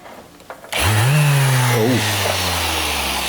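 A power tool with 60-grit abrasive whirs up sharply and runs steadily at a high, loud pitch, dipping briefly partway through before holding its drone, during work on a Mini Cooper race car.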